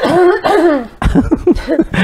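Several sharp coughs in quick succession, close and fairly loud, with a rough, throaty edge and no talking.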